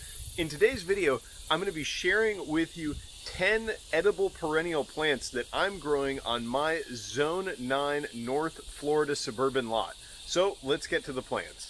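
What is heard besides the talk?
cicadas buzzing in a Florida yard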